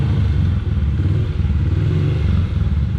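A barn-find Honda CRF50 small motorcycle engine idles steadily nearby, with a loud, continuous low putter and light mechanical clatter.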